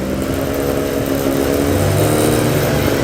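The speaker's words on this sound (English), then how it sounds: "I'm looking forward to hearing some revs from this gorgeous Datsun 240Z race car" A Datsun 240Z race car engine is held at steady high revs during a trackside sound test at Oulton Park, a loud, continuous buzzing drone with a slight rise in pitch partway through.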